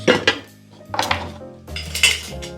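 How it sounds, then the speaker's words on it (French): A small spoon stirs a tea-based Cosmopolitan cocktail, giving three short bursts of metal clinking and scraping against glass, close and crisp, with quiet pauses between them and no talking. "Petite cuillère pour mélanger un petit peu."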